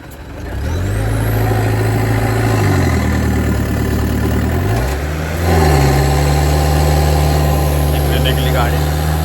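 A tempo vehicle's engine runs loud and steady close by, its low hum shifting in pitch twice as it revs and settles before pulling onto a road.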